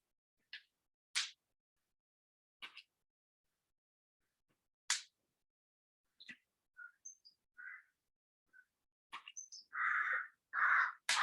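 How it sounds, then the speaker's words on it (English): A crow calls while flying overhead outdoors, harsh caws scattered across quiet air, some short and sharp, with louder drawn-out calls closing in at the end. "Crow going overhead."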